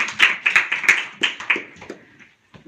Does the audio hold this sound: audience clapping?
yes